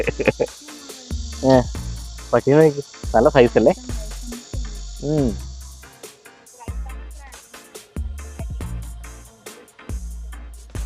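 Insects in a fruit and vegetable orchard keep up a steady high-pitched chirring throughout, close and constant, while people talk loudly over it.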